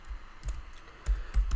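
Code is typed on a computer keyboard, with close, crisp key clicks arriving in quick bursts and short gaps between them.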